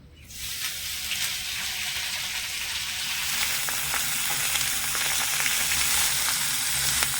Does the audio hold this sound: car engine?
no